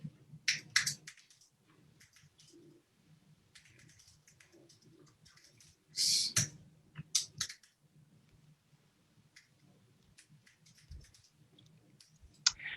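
Keys are tapped on a computer keyboard in quick, irregular bursts of clicks, with a louder cluster midway, fairly close and with no talk over them.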